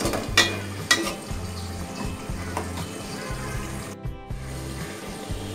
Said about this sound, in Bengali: এই মাছটাকে আমি এখন 2 থেকে 3 মিনিট কষাবো,